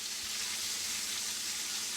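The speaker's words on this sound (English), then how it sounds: "you can pour your onion in there" Chopped onion hitting hot butter in a frying pan, giving a steady, even sizzle throughout a brief moment with no voices.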